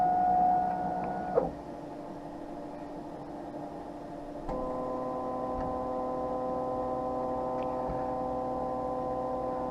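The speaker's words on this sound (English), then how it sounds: "going around tracing the outside perimeter of the lens" Optical lens tracer machine tracing the outline of an eyeglass frame, a steady mechanical hum with tonal whine that shifts pitch partway through, plus a few faint ticks; close and moderately quiet, no talk.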